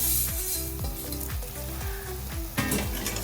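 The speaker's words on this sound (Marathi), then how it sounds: "ह्या उकळत्या पाण्यात मी ह्या शेवया सोडतीये" Wheat vermicelli dropped into a pot of boiling salted water over a lowered gas flame, giving a close, continuous bubbling hiss with repeated soft thuds and clinks as strands are added and moved.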